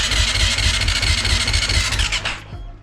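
A 2021 Honda CRF 450 motorcycle's electric starter cranks the engine steadily without it catching, a loud continuous whirring that cuts off abruptly near the end.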